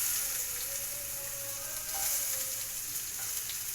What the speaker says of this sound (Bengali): তেলটা আমার এখানে গরম হয়ে গেছে, তো আমি পেঁয়াজটা এখানে দিয়ে দিচ্ছি